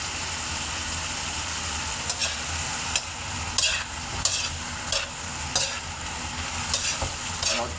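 Calamari fry in a pan with a constant hiss of hot oil while a utensil scrapes and clacks against the metal in regular strokes, close and fairly loud.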